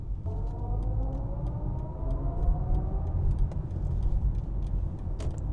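A 2024 BMW iX2 electric car pulling hard while driving: a smooth low road rumble with a rising electric motor whine, steady and near, with small rattles and ticks above and no talk.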